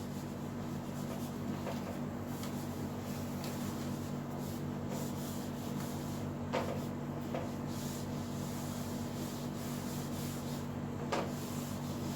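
A board being erased during an accountancy class, a soft continuous rubbing that runs steadily under a constant low hum, with a few faint knocks along the way.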